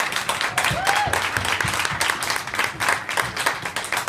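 A room of guests at a book launch applauds a local bookshop, lively clapping from a modest crowd that swells and ebbs in quick bursts, fairly close.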